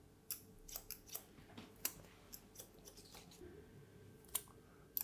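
Scissors snipping hair at the back and sides of a MOD haircut, a quick run of crisp close metallic snips at an uneven rhythm, soft and clear over a quiet salon background.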